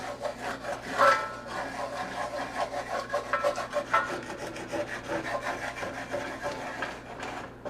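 Rhythmic scraping and rubbing as a utensil works across the bottom of a pan of pork chop drippings on a switched-off stove, close and repeated strokes with no talking.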